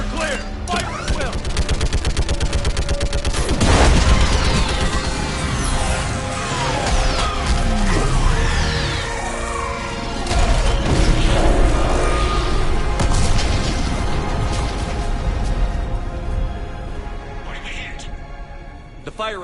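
Gunfire and explosions in the video game Mass Effect 3: loud, dense bursts of shots and heavy booms roll on continuously, with voices talking over the battle.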